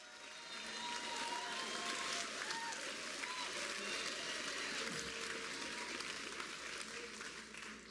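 An audience at the 40th annual commencement ceremony in 2024 claps in sustained, dense applause, a steady crowd wash that holds at even loudness throughout.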